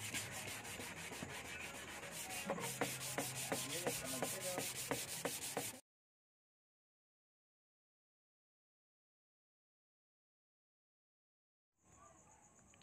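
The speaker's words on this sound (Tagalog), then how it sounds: "lilihain ko na siya guys gamit ang 240 grit na liha" Steady, loud rasping of 240-grit sandpaper scrubbing a hard plastic casing in quick strokes for several seconds, then silence, then a brief faint noise near the end.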